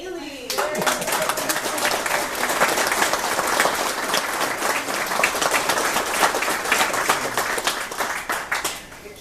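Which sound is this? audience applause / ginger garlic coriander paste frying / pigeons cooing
audience applause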